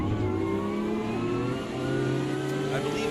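A BMW GT4 race car engine in the AMS2 sim racing game at Laguna Seca drones steadily, its pitch rising and falling as the car accelerates, with a commentator talking over it.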